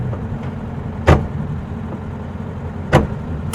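The air-cooled engine of a 1961 VW Beetle runs low and steady during a short drive, with two sharp clunks or knocks cutting through the rumble.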